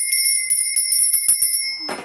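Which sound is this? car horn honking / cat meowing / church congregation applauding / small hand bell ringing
small hand bell ringing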